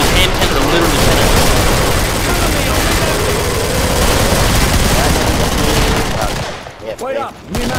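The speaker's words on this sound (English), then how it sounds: "these hand cannons are literally cannons" Dual hand cannons in the Killing Floor video game fire in a loud, dense barrage of rapid heavy shots, continuous for several seconds before tapering off into a few scattered bursts.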